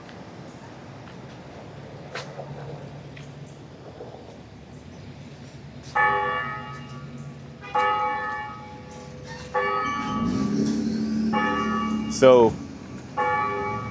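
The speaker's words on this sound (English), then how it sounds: "Sounds like that bell is either coming from a church or it's coming from the courthouse, but it sounds like it's coming from the courthouse." A large bell, from a church or courthouse in a small Kentucky town, tolls four or five evenly spaced loud strokes over outdoor ambience, with a brief spoken word partway through.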